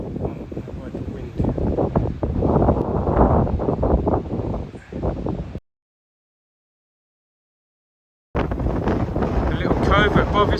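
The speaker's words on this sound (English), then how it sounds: "Oh, the wind." Strong wind blows on a coastal headland and buffets the microphone with a steady roar. It cuts to a few seconds of silence, then returns just as loud.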